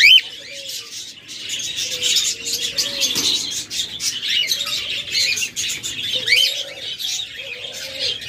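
A pair of lutino lovebirds chattering, dense high-pitched chirps and squeaky calls running continuously, with other caged birds calling nearby.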